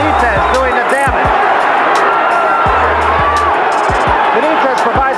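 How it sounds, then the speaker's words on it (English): A boxing arena crowd roars and cheers at a Wilfred Benitez fight, a dense, sustained wall of noise with whistles and shouts, a commentator talking over it and a few sharp low thuds. "And the crowd comes alive."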